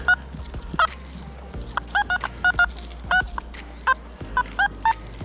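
Metal detector signals at an abandoned old house, among trash, bottle caps and wire: a series of short, pitched electronic beeps in irregular pairs and clusters over a low background rumble.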